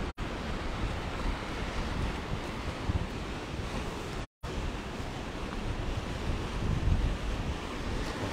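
Sea waves roll steadily along the beach promenade at Side, Turkey, heard as a continuous broad wash of surf mixed with wind buffeting the microphone, with a brief dropout near the middle.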